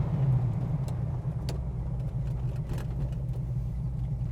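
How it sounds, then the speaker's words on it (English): Big V8 in a GT40 Tornado replica sports car, a steady loud engine drone with sporty exhaust rumble heard from inside the cabin while cruising, no voices over it. "You can hear it's a noisy car. You've got a big V8 behind you that's singing along all the time"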